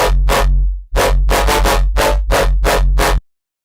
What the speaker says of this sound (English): which has a little bit more harmonics in the high end using the sawtooth here